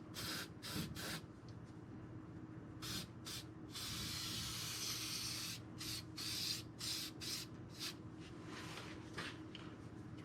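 Another coat sprayed onto the trunk floor of a 1958 Plymouth, with repeated bursts of hissing spray, some short and some long, close up and loud over steady workshop hum.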